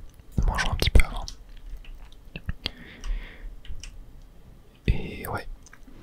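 A whispered voice over close, wet chewing and soft mouth clicks in a French ASMR session playing Forager, with short eating bursts near the start and end.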